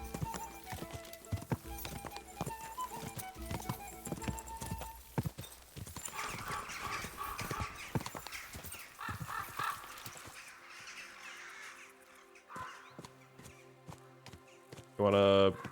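Horse hooves clop rhythmically in a video game while the horse gallops, close and fairly loud, with occasional whinnies. Someone talks over it, and the hoofbeats fade toward the end.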